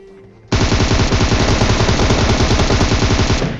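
Close, loud automatic gunfire spray in a battle royale video game, one unbroken rapid burst of shots lasting about three seconds.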